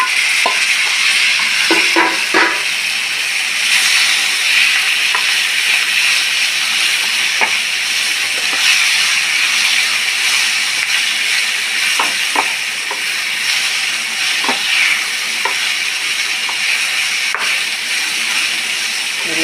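Eggplant (brinjal) pieces sizzle and hiss steadily in hot oil, a close continuous frying crackle with a few soft clinks of a utensil stirring, no voices.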